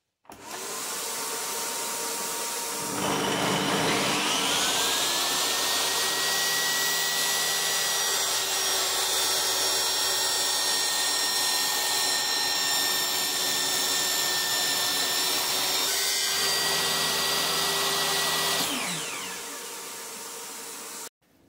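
DeWALT table saw cutting wood clamped in a tenon jig, motor spinning up, a sustained loud whine through the cut with a brief change in tone, then winding down near the end.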